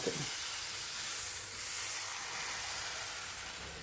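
Elanji batter poured onto a hot pan hisses in a steady, bright sizzle that fills the whole moment, close and fairly quiet, with no talking.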